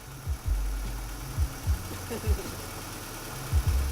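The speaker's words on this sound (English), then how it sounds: "Why is the engine running so smoothly?" A car engine idles with a low, steady rumble and periodic pulsing thumps, and a voice speaks faintly in the background.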